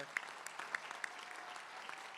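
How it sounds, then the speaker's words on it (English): A faint, brief patter of scattered clapping from a few people at a cancer center celebration, soft and distant, fading quickly. "I heard a little clap there."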